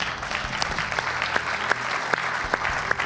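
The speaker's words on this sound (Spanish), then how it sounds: "aplaudamos todos" Game show studio audience applauding on a quiz programme, a steady wash of clapping with sharp individual claps standing out, at moderate level throughout.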